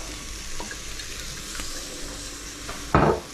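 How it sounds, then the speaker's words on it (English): Tomatoes frying in olive oil in a pan for prawn and chorizo fried rice, a steady close sizzle throughout with a sharp louder burst of spitting near the end. "I'm going to fry off the tomatoes next with some olive oil this time"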